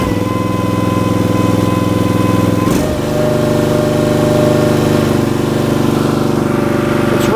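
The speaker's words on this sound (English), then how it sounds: "As soon as I start the engine, give it a little gas." A Compact LX VMT motorhome engine idles steadily with a loud, even drone, briefly dipping in pitch before settling back into a constant hum; no voices.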